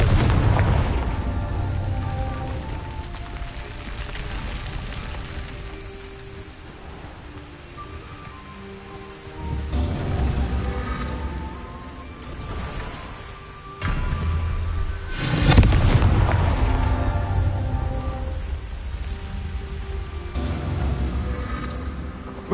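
Repeated Confringo fire spell blasts in the video game Hogwarts Legacy, loud booming bursts spread across the stretch with a sharp crack near the middle, set over a low rumbling background with no talk.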